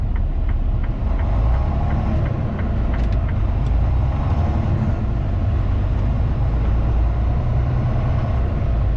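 A JB Hunt semi truck's diesel engine idles at an intermodal yard with a steady, loud low rumble and faint mechanical ticking, continuous throughout with no talking.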